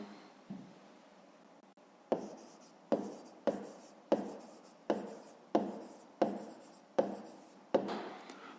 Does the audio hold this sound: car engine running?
no